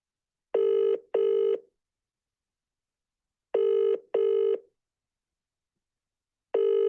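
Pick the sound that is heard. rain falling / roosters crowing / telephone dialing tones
telephone dialing tones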